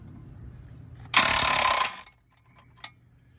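A socket wrench works on a car engine: a quiet mechanical background, then a sudden bright rasping burst of just under a second, followed by a single faint click.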